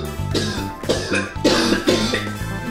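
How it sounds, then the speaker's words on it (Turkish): A person coughs deliberately in a series of about five or six harsh, close bursts separated by short pauses, with no speech. "Biraz fazla öksüreceğim"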